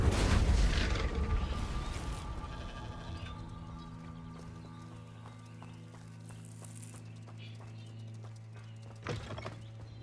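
A burst of fire from the Incendio spell cast in the video game Hogwarts Legacy, a loud whooshing roar at the start that fades into sustained humming tones, with a brief hit near the end.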